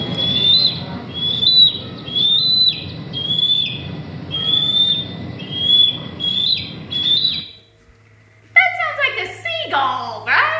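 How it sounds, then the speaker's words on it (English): Bald eagle call played back: a series of high, thin, chirping whistles repeated in quick bursts for several seconds over a low rumbling background, followed after a brief gap by a different, shriller squealing call. "I'm going to play a bald eagle call"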